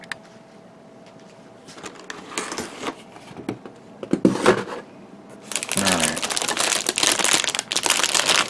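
Packaging of an HG Zaku II Type C-6/R6 plastic model kit is handled and opened up close, with scattered crinkles and rustles building into a loud, sustained crumpling of plastic and paper.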